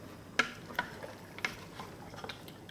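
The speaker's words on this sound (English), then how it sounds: "Give it a stir. It's heating up now." A spoon stirs lamb bhuna curry in a heating pot, making quiet, irregular clinks and scrapes against the pan with a soft bubbling hiss underneath.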